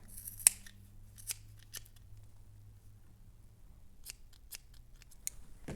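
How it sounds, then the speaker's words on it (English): Several sharp scissor snips cutting yarn, spaced irregularly, sound close and crisp against a quiet background with a low hum. "take your scissors, cut along the bottom"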